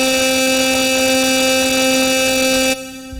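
A steady synth lead in Ableton holds one static, unwavering tone with no vibrato, loud and alone, then stops abruptly near the end.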